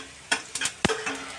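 Cumin, fenugreek seeds and ajwain sizzle softly in hot oil as tempering for a cucumber sambar, broken by a few sharp stirring clatters of a spoon against the pan, with no voices.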